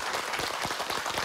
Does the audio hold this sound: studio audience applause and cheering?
yes